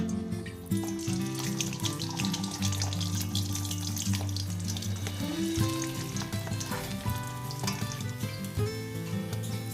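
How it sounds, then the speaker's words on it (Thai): Pork fully covered in hot oil, deep-frying for crispy pork belly, with a dense, bubbling sizzle that runs throughout. Loud, close clatter and tonal kitchen sounds are layered over the frying. "พอน้ำมันร้อนก็ใส่หมูลงไปได้เลยค่ะ"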